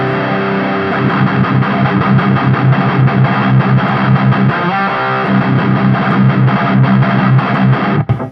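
Distorted electric guitar played through a TONEX cab with the amp tone knob set to mic, a steady, loud, continuous riff of sustained chords and notes for the full stretch, with no voices over it.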